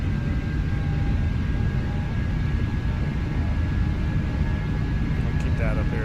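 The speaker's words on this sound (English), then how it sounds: "I cannot tell you how real this airplane sounds right now." Airbus airliner engines in the X-Plane flight simulator during an engine-out procedure near Reno, a steady broadband roar with a faint tonal whine running throughout, continuous and fairly loud.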